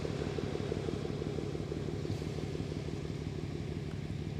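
A ship engine rumbles in a steady low, throbbing drone with a fast regular pulse, continuous and fairly distant on the Westerschelde waterway, with no talking.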